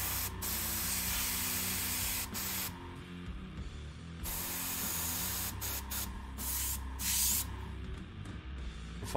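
Compressed air blasting out in several sharp bursts of hissing spray, loud and close, separated by short pauses over a low humming background.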